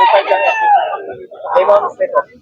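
A lemon sweater gamefowl rooster, a bull stag at a farm breeders' market in Bocaue, crows a long wavering call, then gives a few shorter clucks, close and loud amid people talking.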